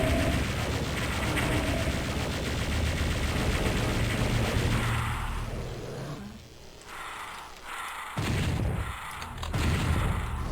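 Rapid gunfire and monster roars fill a fight against pain elementals in Doom 64, dense and loud for the first six seconds, then breaking into scattered bursts of shots with brief quieter gaps.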